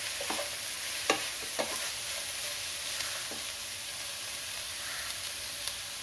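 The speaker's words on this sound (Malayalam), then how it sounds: "സവാള പെട്ടെന്ന് വഴറ്റി കിട്ടാനായിട്ട് ഞാൻ കുറച്ച് ഉപ്പ് ചേർത്ത് കൊടുക്കുകയാണ്." Onions sauté with salt in a pan, a soft steady sizzle and hiss with a few sharp clicks and scrapes of stirring scattered through, fairly quiet and close with no talking.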